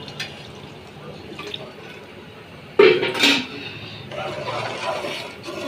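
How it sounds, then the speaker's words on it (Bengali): Water is poured into a pan of simmering surma fish curry, a short splashing pour with a metallic clink, then a soft sizzle and bubbling. Kitchen room tone is heard, with no speech. "এখন আমি জলটা দিয়ে দিব।"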